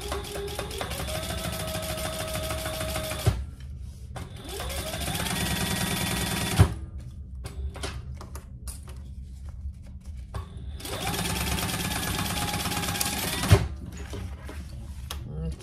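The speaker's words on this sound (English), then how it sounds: "All right, so let's just top stitch this part." Sewing machine topstitching a hip bag, running in three long steady stretches with whirring motor pitch rising at each start and brief quiet pauses with clicks between them.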